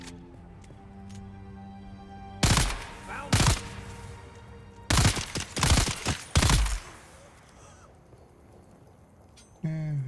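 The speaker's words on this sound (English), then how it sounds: "See how well this gun works." Gunfire from a gun in the video game Dune: Awakening: several loud, sharp shots, first two single blasts, then a quick cluster of three or four, and one more at the very end.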